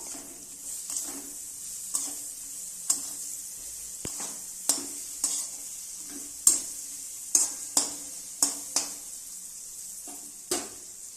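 Fenugreek leaves stirred and frying among spices in a pan, a steady soft sizzle with repeated sharp scrapes and taps of the spoon against the pan, close and fairly quiet.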